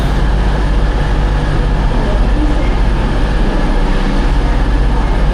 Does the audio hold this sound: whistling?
no